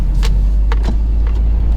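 Power windows on a Subaru WRX STI lower inside the cabin in a few short whirring motor runs over a steady low engine hum, close and moderately loud.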